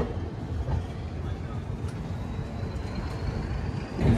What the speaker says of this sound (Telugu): ట్రైన్ జొల్లారపేటలో స్టార్ట్ అయిపోయిందండి.